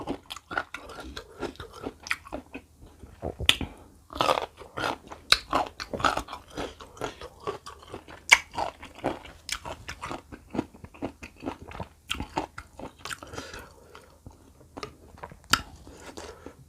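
Crisp, close-up crunching and chewing of old-style salt-pickled mango, with repeated loud bites and wet munching in a steady, irregular rhythm, and no talk.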